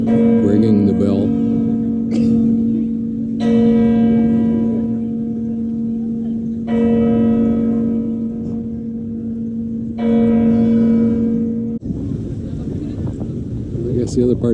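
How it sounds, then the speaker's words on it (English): A deep bell struck by a clock tower statue's arms tolls repeatedly in slow, resonant strikes, each ringing out and overlapping the next, loud and close, with faint background murmur. "The statue's arms ringing the bell."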